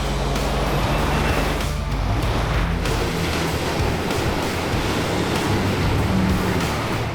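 Heavy 4WD rigs ploughing through muddy water holes on a bush track, with a loud continuous rush and wash of splashing water, broad and rumbling throughout, no talk.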